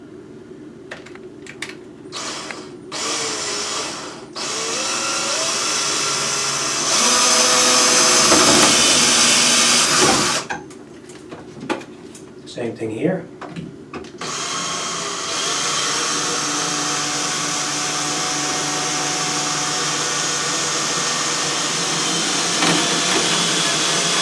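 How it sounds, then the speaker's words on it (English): An electric drill bores a small hole in a wall for a molly anchor, giving several short whirring bursts and a longer sustained run separated by pauses and light handling noise, with a few spoken words. "we're going to just take our drill and we're going to drill a very small hole to accommodate the molly"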